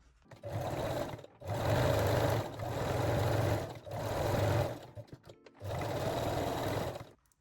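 A sewing machine stitches the folded cap top edge of a bralette in four loud bursts of steady whirring, separated by short pauses, with no voices.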